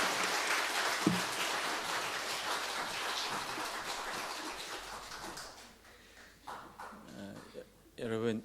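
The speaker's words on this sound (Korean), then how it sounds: "우리 또 박수로 환영하겠습니다" A church congregation claps to welcome a pastor, a dense patter of hands for about five seconds that thins and fades, followed by a few scattered sounds.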